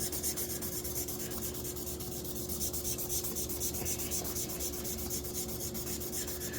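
Steady hand sanding of a Galax RTX 4090 HOF graphics card's surface during lapping, a continuous close rubbing rasp with an even back-and-forth rhythm, alone without talk.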